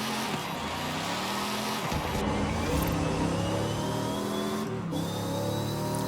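Old-school Firebird with around 500 horsepower in a video game, its engine heard from inside the cabin as a steady, loud droning hum that rises and shifts pitch as it revs, with no talking.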